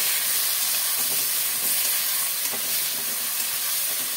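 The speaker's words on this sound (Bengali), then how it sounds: "সবজির সাথে মশলাগুলোকে ভালো করে কষাতে হবে" Vegetables with turmeric, garlic paste, green chili paste and a little water sautéed and stirred in a pan for a potato, flat bean and eggplant dried fish curry, giving a steady close sizzle with faint scraping stirs.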